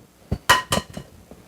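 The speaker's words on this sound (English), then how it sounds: "we're going to start adding in 3 whole eggs. We're going to do 1 egg at a time" A whole egg cracked against a bowl rim for cheesecake brownie batter: a few sharp taps and clinks in quick succession, close and clear, with no voices.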